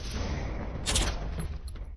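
Tranquilizer bullets fired by police in a film, a dense burst of muffled shots clustered around the middle of the clip over a steady background rumble, with no talk.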